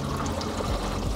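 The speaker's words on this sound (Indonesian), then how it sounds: "jadi ada air mengalir di sini ya" Water runs and trickles inside the rear trunk of a Toyota Innova Reborn, leaking in through the rear stop lamp area, a steady close pouring flow in a brief stretch with no voice.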